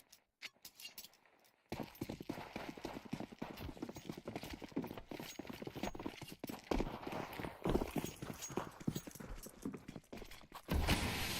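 Horse hooves clip-clop on hard ground in a Rainbow Six Siege-style pro league match, a steady trotting rhythm that grows louder and busier. Softer footsteps and clatter come before it.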